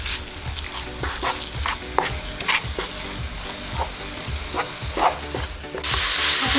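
Modak filling is stirred in a hot pan, giving a steady sizzle broken by repeated scraping and clacking strokes of the spoon, close and fairly loud with no talking.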